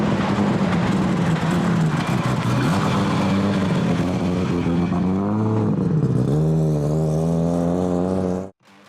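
Nissan R32 GT-R with a custom 4-inch titanium exhaust accelerates hard down the drag strip, a loud rising engine note climbing through gear changes before cutting off abruptly near the end.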